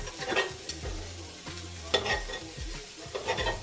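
Breakfast food warms in an egg pan with a soft, close sizzle. Utensils stir and scrape in irregular bursts, and no one speaks.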